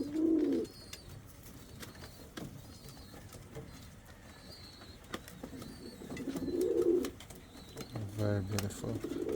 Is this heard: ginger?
no